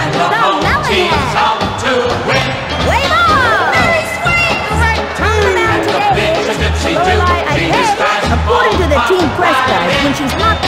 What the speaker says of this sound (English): The crowd is on their feet now. Stomping at us for the best team in the CDL.